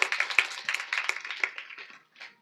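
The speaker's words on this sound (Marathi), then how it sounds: "या परिवारासाठी एकदा जोरदार टाळ्या वाजवा" A crowd at a devotional kirtan gathering claps in a quick, brisk run of claps that gradually thins and fades. A last small burst follows a short pause.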